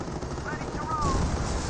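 Gunfire in the Company of Heroes 1 war strategy game: a dense, steady crackle of weapons fire within busy battle noise, with a commentator's voice running over it.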